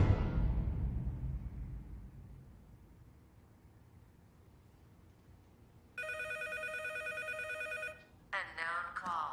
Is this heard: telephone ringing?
yes